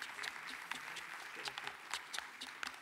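Audience applause at a foundation's cultural event, scattered sharp claps over a steady patter, fairly faint and distant, with some voices murmuring underneath.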